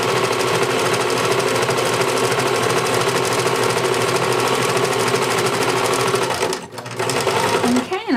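A sewing machine runs continuously and close while stitching a slipcover seam with piping, a rapid, even mechanical rattle that slows briefly near the end before resuming.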